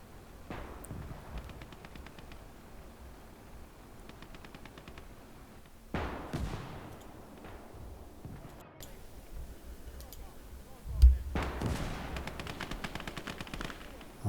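Distant machine-gun bursts and heavy cannon blasts in the WWII strategy game Call to Arms: Gates of Hell on a Finnish arctic battlefield, several sharp booms rising over steady crackling fire, faint and far.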